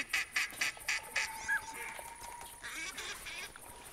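Ducks quack in a rhythmic burst of repeated calls in the hunting game theHunter Classic at the Rougarou Bayou reserve, fairly close and clear over a steady ambient wash.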